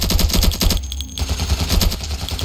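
Rapid automatic gunfire in the Ravenfield battle game, loud and continuous bursts of bullets sprayed at close range with a brief pause midway before the firing resumes.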